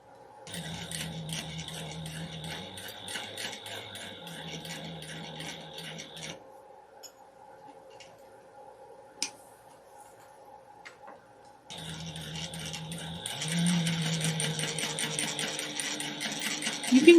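A sewing machine stitches a key fob wallet with Tex 40 thread in rapid ticking bursts, pausing for several seconds in the middle with the needle stopped before running again, no voices present.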